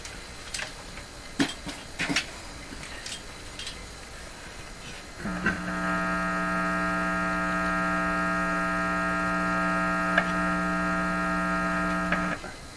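An old suitcase record player gives off a loud, steady mains hum with strong tones that switches on partway through and holds evenly to the end, preceded by scattered clicks and handling knocks.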